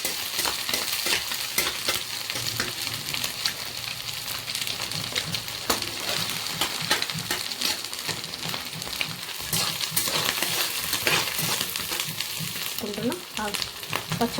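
Chopped onions frying in a pan for a cauliflower and egg curry, a dense continuous sizzle with scattered stirring scrapes and clicks, close and steady throughout.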